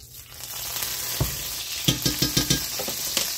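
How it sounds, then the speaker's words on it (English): Meat searing in a hot pan, a steady loud sizzle with several sharp spitting pops and crackles bursting in a quick run through the middle. "We're going to sear all sides."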